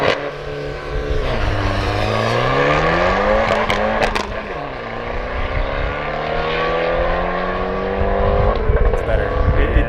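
A Ford Fiesta ST with an EcoBoost engine accelerating on a race track, pitch climbing through the gears with audible upshifts, heard from inside the car as a steady, moderately loud engine drone.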